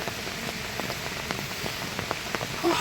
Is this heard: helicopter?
no